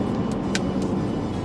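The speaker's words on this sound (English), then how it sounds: "We're in traffic." Car traffic on a Southern California road, heard from inside an RV caught in congestion: a steady, close low rumble of engines and road noise with a faint passing hiss.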